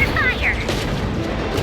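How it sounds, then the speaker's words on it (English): Explosions and booming blasts in the video game Genshin Impact, a sustained rumbling boom filling the clip, with an excited voice shouting over it. "Big boom! Fire in the hole!"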